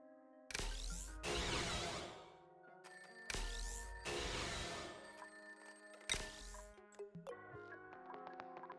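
A telephone in the video game Stone to Space rings in three loud electronic bursts, each followed by a pause, with a soft buzzing tone trailing between them.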